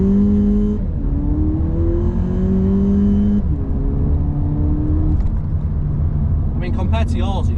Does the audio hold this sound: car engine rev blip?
yes